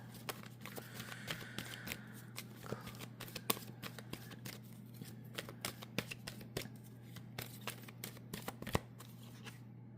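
Tarot cards being shuffled in a quiet room: a run of crisp, rapid riffling flicks and snaps, close and fairly soft, over a low steady hum, with no talking.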